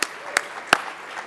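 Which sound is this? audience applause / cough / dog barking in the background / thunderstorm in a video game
audience applause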